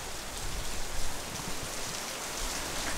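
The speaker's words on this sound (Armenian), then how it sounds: "Սևանում անձրևները միշտ ուժեղ են շատ։" Heavy rain at Lake Sevan pours down in a dense, continuous hiss of drops drumming on surfaces nearby, steady and loud with no talk.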